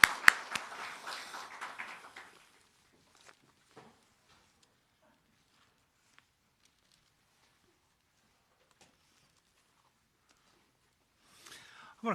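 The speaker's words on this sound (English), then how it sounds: "I think that's worthy of an applause." Brief scattered applause from mourners at a memorial celebration of life, a soft patter of hands lasting about two seconds before fading into near silence, with a faint stir at the end.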